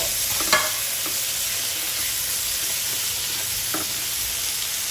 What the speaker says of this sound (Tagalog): Lagyan na natin ng kamatis. 3 kamatis ang nilagay ko.